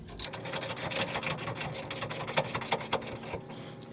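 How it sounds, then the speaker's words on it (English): Quick, steady clicking of a ratchet snugging down the rear stabilizer link on a GM SUV, a close, even run of small metallic ticks with no talking. "We'll snug him up with the ratchet first."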